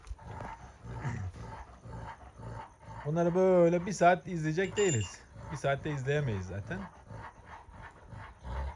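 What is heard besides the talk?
two leader Kangal dogs growling over a female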